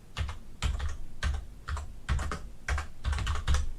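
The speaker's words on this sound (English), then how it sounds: "so if I just type in Google here" Keys clatter on a computer keyboard in quick bursts of close, clicky typing separated by brief pauses, with no speech.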